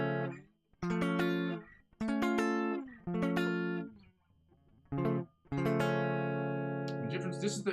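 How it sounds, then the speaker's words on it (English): Inside chords on guitar, strummed in short bright bursts separated by brief gaps, then one chord left ringing out at the end; loud and close, with no talk. "Get right into the inside chords, guys, which sound awesome because this is what they look like. This is what they sound like."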